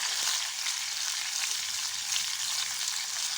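Eggplant frying with browned garlic in a hot pan, a loud continuous crackling sizzle with occasional stirring scrapes, close and steady, no voices.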